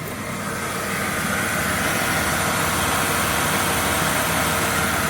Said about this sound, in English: That compressor is just spinning away.